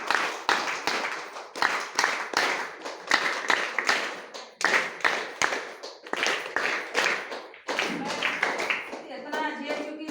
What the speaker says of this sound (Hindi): सबके लिए एक बार जोरदार और जबरदस्त ताली